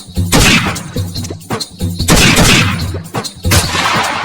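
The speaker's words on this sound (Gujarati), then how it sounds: "ફાયરિંગ કર, ચાલુ રાખ, ચાલુ રાખ." Gunfire in a comedy skit about a rustic bandit: a loud burst of sharp cracking shots, then more bursts in quick succession, each with a short tail.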